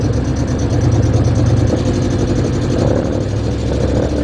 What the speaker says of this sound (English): the vehicle just got a bunch louder fairly quick, so I'm thinking I burned out an exhaust donut or something like that